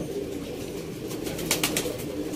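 A pigeon in Sialkot coos softly, with a few low murmuring calls over faint ambient hiss and brief fluttering taps midway.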